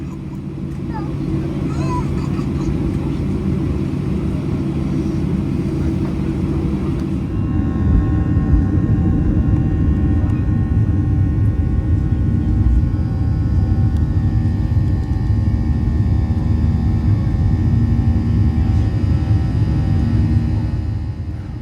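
Inside a Royal Air Maroc airplane cabin during takeoff, a loud steady engine roar and low rumble fills the space, growing heavier and deeper about a third of the way through and holding constant.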